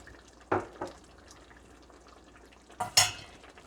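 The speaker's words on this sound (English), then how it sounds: "gonna use my wooden spoon." A wooden spoon stirring a red bell pepper chicken stew with chopped onions in a pot, two short clusters of scraping knocks against the pot, one early and a louder one near the end, with quiet simmering between.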